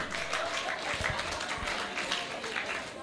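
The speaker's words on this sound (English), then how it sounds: "Please clap for him." Audience applause after a speaker at a communication event, a dense steady patter of many hands that runs throughout with a few voices mixed in.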